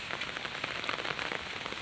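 Heavy rain pours down in a steady dense hiss with scattered patter and crackle on surfaces, fairly quiet and continuous, with no voices.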